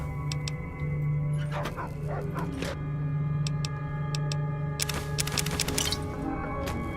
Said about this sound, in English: This is not a good sound of dogs.